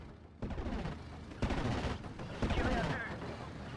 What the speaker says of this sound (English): Alright, good strafing run there.